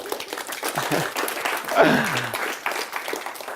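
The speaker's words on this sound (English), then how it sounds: "Give her a round of applause." An audience in a room applauds for the speaker's fiancée, a dense patter of clapping lasting a few seconds with a brief whoop rising over it partway through.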